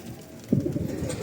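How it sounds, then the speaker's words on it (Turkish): A lemon-colored, white-headed pigeon with yellow wing bars gives a short, low throaty coo over faint background noise. "Bu da sarı kalemli limoni akbaş kafa dedikleri güzel bir kuş."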